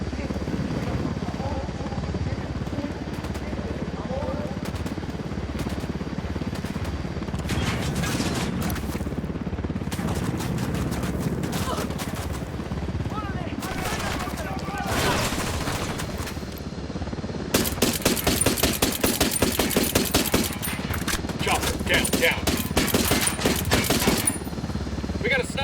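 Helicopter rotor drone from Ghost Recon Wildlands runs steadily throughout, overlaid by bursts of gunfire that intensify into rapid automatic fire near the end; game voices call out commands under the action.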